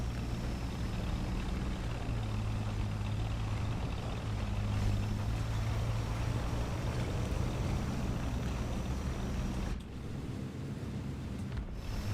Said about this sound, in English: I swear I hear an engine to my right